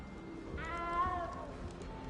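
A single drawn-out cat meow in a Hogwarts video game, moderately clear over a steady low background hum.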